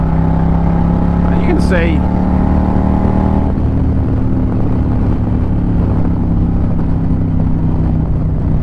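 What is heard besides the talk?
Indian Challenger motorcycle with performance cams accelerating in 5th gear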